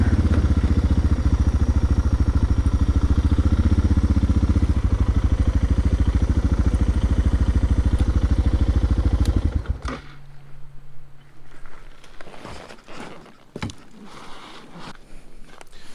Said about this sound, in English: I figured figured I'd try and get the bike down in there